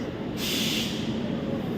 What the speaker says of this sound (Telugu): ఇదిగోండి ఇదే మా ట్రైన్